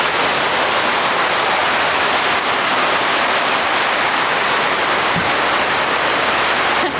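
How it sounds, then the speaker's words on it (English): Heavy rain pours down in a steady, dense hiss, loud and unbroken from start to finish, with no voices. "Yep, rain's coming down hard."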